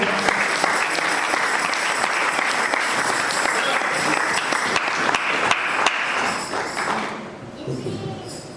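A church congregation bursts into sustained, dense applause filling the space, loud and steady throughout before tapering off near the end.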